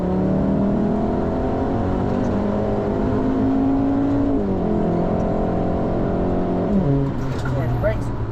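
On a Nürburgring Nordschleife trackday, a car accelerates hard on throttle. The engine note climbs steadily in pitch, with gear changes breaking the rise, and a voice talks over the loud, close engine.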